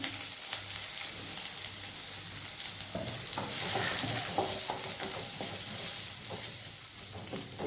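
Sliced onions and green chillies frying in hot oil, a steady close crackling sizzle that swells midway, punctuated by the scrape and clatter of a spatula stirring the pan.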